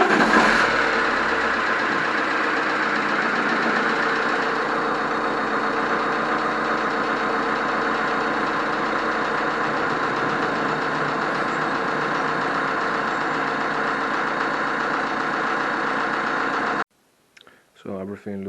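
Alfa Romeo Giulietta 2.0 JTDm 140 hp diesel idling steadily with a cylinder knock, a close, loud, even clatter running unbroken before cutting off near the end, followed by a brief quiet pause and a short burst of sound.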